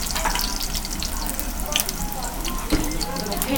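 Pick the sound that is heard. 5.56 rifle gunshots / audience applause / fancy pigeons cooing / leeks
leeks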